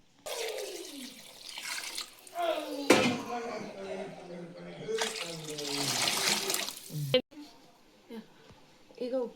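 Water poured into a pot of rice for pulav, a sustained splashing pour that rises and shifts in pitch as the pot fills, with a short break in the middle, heard close with no talk.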